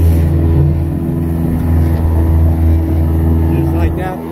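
A 2012 Jetcraft jet boat motor runs in a loud, steady low drone as it is pivoted, with a slight cavitating churn and no break in the engine note.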